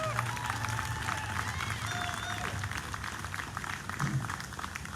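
Outdoor crowd at a Back the Blue rally in Torrington, Connecticut applauds a speaker, a sustained spread of clapping heard at some distance and fairly soft, with scattered voices mixed in.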